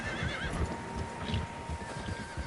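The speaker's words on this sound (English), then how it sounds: "Horses, quite a few of them." Horses in a video game whinny over a steady rhythm of hooves clip-clopping, with several animals close by and the neighs rising above the hoofbeats.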